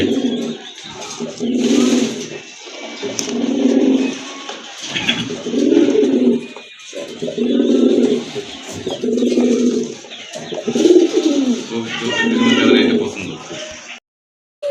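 A large female Hafsan grizzle pigeon and others coo in repeated low, throaty bursts, about seven evenly spaced phrases, close by, while someone talks over them.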